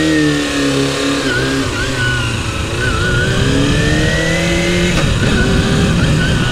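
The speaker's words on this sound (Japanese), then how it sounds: "エンジンのかかりはどうでしょうか" Kawasaki ZXR250 motorcycle engine with carburetor work in progress, running close by with a high-pitched inline-four whine that rises and falls through repeated revs, slightly uneven, with no talking.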